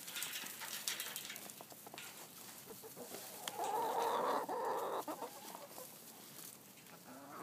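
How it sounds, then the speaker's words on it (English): Hens on snowy ground clucking and murmuring steadily at close range, with a louder burst of calls in the middle and no talk over them. "chickens in the snow. They won't come down."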